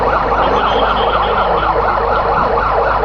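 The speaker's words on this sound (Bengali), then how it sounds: "আমাদের সিভিল সার্জনের দপ্তর থেকেও একটি অ্যাম্বুলেন্স এসে পৌঁছে গেছে" An ambulance siren wails at the Osmani International Airport crash site in Sylhet, a loud, steady rising-and-falling tone repeating throughout, close and continuous, with no voices.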